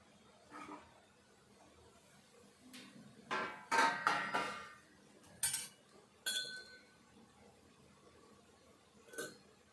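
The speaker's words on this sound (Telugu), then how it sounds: "కొద్దిసేపు మూత పెట్టుకుందాం." A metal lid is set onto a pan of potato dosa, giving a few clinks and knocks spread across a quiet background, each one clear and brief.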